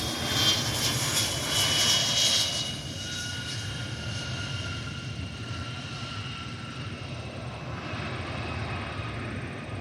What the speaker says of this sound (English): FlexJet Flight 550 inbound from Cincinnati is a Bombardier Challenger 300.